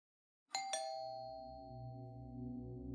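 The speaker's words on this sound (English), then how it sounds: "Jonathan walked up to the door of Alexia's parents' house and rang the doorbell." Two-tone doorbell chime at a house door, a bright ding followed quickly by a second note, both ringing out and slowly decaying into quiet.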